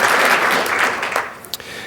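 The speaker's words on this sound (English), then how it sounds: "Everybody give yourselves a round of applause" Applause from a Python conference audience, dense and steady before thinning out over the last second into scattered claps.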